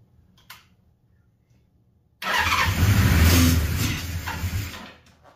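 A 1979 Suzuki GS850 motorcycle engine that has sat unused for almost 40 years fires and springs to life for about three seconds, loud and close, after a quiet start, then cuts out.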